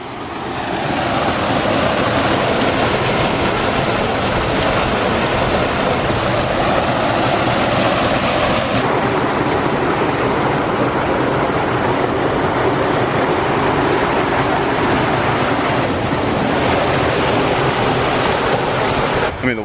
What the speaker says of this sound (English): the water's coming out of that at an extremely fast rate